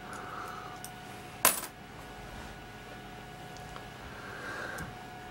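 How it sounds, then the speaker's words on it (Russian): A single sharp metallic clink of a small 1974 one-kopeck coin dropping, bright and brief, standing out against a quiet background hum. "Ну ладно, монеты."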